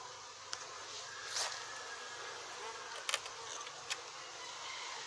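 Buzzing wasp close to a beehive in an apiary, with a faint steady insect drone and several brief louder buzzes as it passes near.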